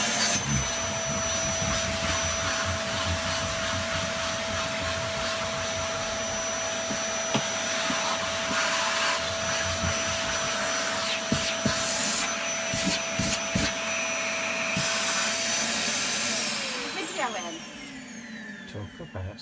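A vacuum cleaner hoovers inside a caravan, a loud continuous whine and rush that holds steady with scraping and bumping of the nozzle, then winds down near the end.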